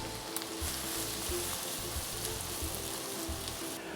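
Finely chopped onion sizzling and frying in groundnut oil for a roadside-style mushroom dish, a steady dense crackle with small popping bursts, close and continuous with no talking.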